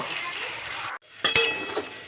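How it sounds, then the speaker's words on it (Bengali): Potatoes cooking in a pan, covered and repeatedly stir-fried, give a soft sizzle that breaks off briefly, then returns with a few scraping stirs and a light clatter of the pan or lid. "ঢাকা দিয়ে দিয়ে বারবার কষিয়ে নিচ্ছি, এভাবেই আলুটা সেদ্ধ করব।"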